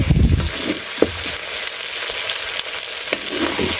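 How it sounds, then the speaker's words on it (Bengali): Chicken for a village-style curry fries in plenty of oil, with a loud, steady sizzle and occasional scraping stirs and clunks. A burst of frying noise opens, then the hiss continues. "অনেক তেল দিয়ে একেবারে এই মুসমুসা করে যেটা কই ওই রকম করে ভাইজা নিলাম"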